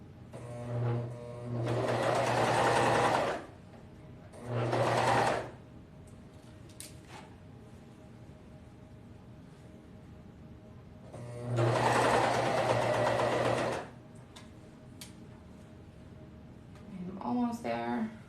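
A sewing machine stitches a seam on a crop tank top in three distinct runs, two short bursts close together and a longer one after a pause, loud and close, with quieter handling sounds between.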